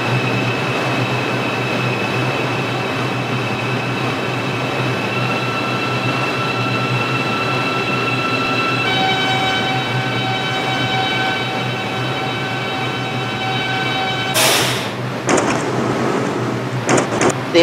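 New York subway line 6 local train in Subway Simulator, a loud steady rolling rumble with whining motor tones, then a sharp burst and clatter near the end like doors or brakes.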